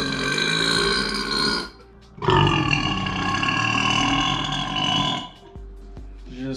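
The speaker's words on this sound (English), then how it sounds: "I need to get some of these stocked up burps because I'm getting real bloated." Long, loud burps from a burping contest, a drawn-out belch of nearly two seconds, then a brief pause and a second sustained, resonant burp lasting about three seconds, with a short trailing grunt at the end.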